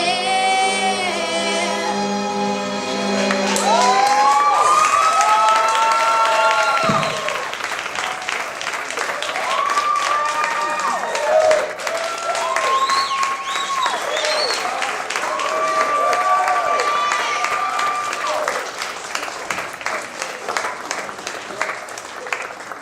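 A youth orchestra's final sustained chord gives way to loud, continuous audience applause that fills the hall for about twenty seconds, with voices talking over the clapping.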